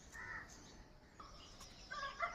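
Crows cawing in a cold village morning, a few short harsh calls at moderate distance over quiet outdoor background, with a faint rooster-like call.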